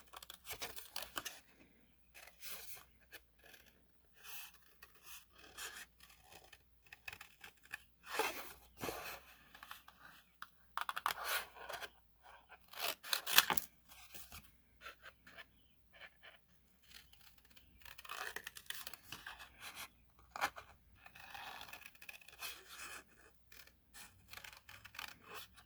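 Scissors fussy-cut a paper leaf shape, making close, crisp snips and paper crinkles in irregular bursts with short pauses between them, and no talking.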